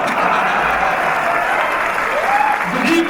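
An audience at a mushaira and kavi sammelan poetry recital in Dubai gives steady, continuous applause, with a voice briefly heard over the clapping.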